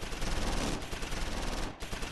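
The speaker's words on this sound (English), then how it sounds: "All right, tons of fire coming in." Dense gunfire rattles in the Close Combat IV war game, set at Losheim, with rapid overlapping machine-gun bursts forming a constant noisy barrage that dips briefly near the end.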